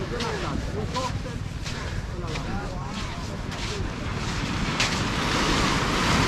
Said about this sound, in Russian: Совершенно шикарный пляж.